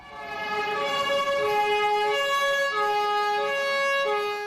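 Emergency vehicle sirens wailing at Maelbeek metro station in Brussels, a loud sustained two-tone siren alternating evenly between high and low pitches, close and continuous with no voices.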